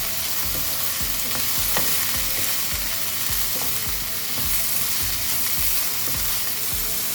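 A shakshuka mixture of eggs and tomato sizzles loudly and steadily in a pan, with a regular series of stirring scrapes and soft knocks throughout.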